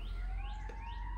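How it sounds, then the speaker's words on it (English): Emergency vehicle siren outdoors, a rising and falling wail heard from a distance over steady background noise. "wow, sirens"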